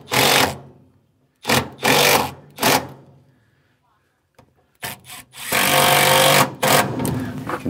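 A power drill drives small self-tapping wood screws into cabinet wood, giving short whirring bursts followed by a longer sustained run, close and loud, with pauses of near silence between.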